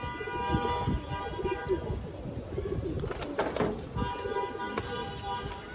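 Pigeons cooing softly in a loft amid fluttering and scuffling, with a voice speaking in the background.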